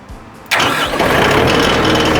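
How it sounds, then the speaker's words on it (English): A Bandit 12XPC woodchipper's engine cranks briefly, then catches and settles into a loud, steady idle close by. "Start the engine, we'll lift the feed wheel."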